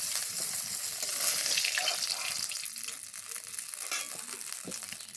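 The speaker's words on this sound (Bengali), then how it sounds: "দেখো এই মাছগুলো খুব ভালোভাবে ভেজে নিয়েছি, এবার এগুলো তুলে নেব।" Fish frying in mustard oil in a kadai gives a dense, continuous sizzle that holds steady and close throughout, with faint scraping and a quiet voice beneath it.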